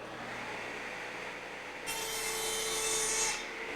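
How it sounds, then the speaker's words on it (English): A Shopsmith saw makes a double miter cut through wood: a steady, close whirring hiss that grows louder and brighter midway as the blade bites in, then eases back, with no talking. "This will give me my double miter cut."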